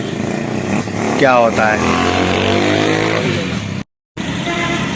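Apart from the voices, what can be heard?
motorcycle engine running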